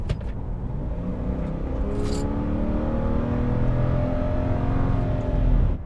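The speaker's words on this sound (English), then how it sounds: "I like the flat 6 sound," A 2011 Subaru Tribeca's flat-six engine pulls steadily under acceleration from inside the cabin, a continuous climbing drone with a growing rumble, moderately loud and without talk.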